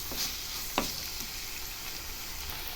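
Onions fry in a pan for a dried anchovy (nethili karuvadu) thokku: a steady, close hiss of sizzling oil runs throughout, broken by a few soft stirring scrapes.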